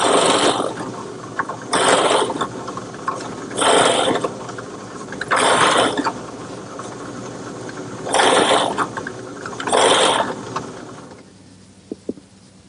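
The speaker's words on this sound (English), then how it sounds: "simply plunging the cutter into a piece of scrap cypress makes quick work of forming the plugs" A plug cutter bores plugs from a piece of scrap cypress in a woodworking shop, making five separate whirring, grinding bursts, each a second or two long with brief pauses between, close and loud, then fading to quiet.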